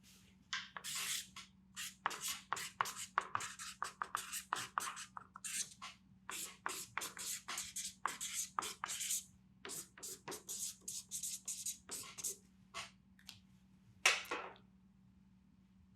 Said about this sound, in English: I'm gonna write a few descriptive words of my person.